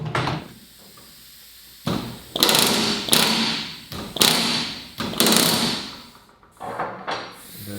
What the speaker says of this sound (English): going to be using this bucking bar, and it's wide, so if I'm off even by an inch left or right, I should still get a good bucking action